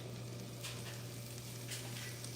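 Andouille sausage frying in a pan for shrimp and grits, a quiet, steady sizzle with a constant low hum underneath and a couple of soft stirring scrapes, no talking.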